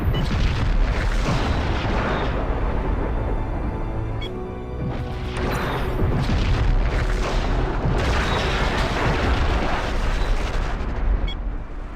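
A Romulan ship explodes in the Star Trek Legacy space combat video game, with continuous loud, dense rumbling blasts and booming bursts that swell in waves across the whole stretch, and no voices.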